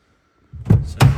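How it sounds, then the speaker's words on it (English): The door of a 2022 Toyota Hilux Double Cab 2.8 D4-D Invincible is opened, two close, heavy thunks a moment apart after a brief near-silence, with no talk over them. "Dan, could you open the door on the other side, please?"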